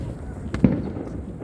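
A single firework bang pops sharply midway through an outdoor backyard scene, briefly loud against a background of low murmuring and ambient noise.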